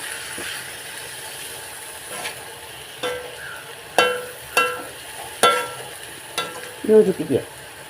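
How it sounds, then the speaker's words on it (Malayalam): Squid thoran being mixed together in a pan, a spatula scraping and clattering in a handful of sharp strokes over a low, steady sizzle that grows busier toward the end. "എല്ലാം കൂടി ഒന്ന് യോജിപ്പിക്കുക."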